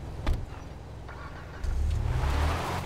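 A car engine in the video game GTA Online cranks and catches with a short burst, then settles into a louder, steady running rumble close by.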